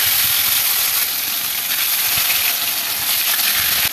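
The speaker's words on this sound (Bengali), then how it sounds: "এবারে বাকি পোড়ো ভাজাগুলো আমি দিয়ে দেবো।" Pumpkin leaf fritters fry in hot oil over a lowered gas flame, a loud, steady, close sizzle and hiss that continues unbroken, with no speech.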